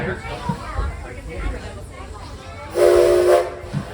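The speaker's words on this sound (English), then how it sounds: "And there's the whistle." A loud steam locomotive whistle blasts for under a second, a bright sustained tone standing out over background chatter and ambient noise at a heritage railroad station at Greenfield Village.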